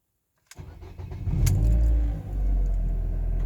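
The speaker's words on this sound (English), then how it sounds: "what we're going to do is we're going to start the car up" A Ford Focus Mk1 starts from cold: after a moment of silence the starter cranks briefly, then the engine catches and settles into a steady, close idle.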